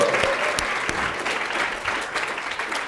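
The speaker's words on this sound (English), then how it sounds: "Give him a round of applause." A panel audience claps for a Humane League representative, a full, lively burst of many hands with a few sharper individual claps standing out, sustained throughout at a fairly loud level.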